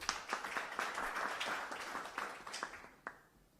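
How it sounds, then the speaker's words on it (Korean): An audience at a Korean seminar on data economy and personal information protection law applauds to welcome a speaker, with a steady wash of clapping that gradually thins out and fades. "큰 박수로 맞아주시기 바랍니다."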